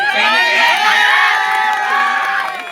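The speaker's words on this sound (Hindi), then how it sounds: "इसके लिए बहुत जोरदार तालियां।" A loud crowd of children cheers, shouts and applauds together at a school farewell ceremony in a sustained burst of excited voices.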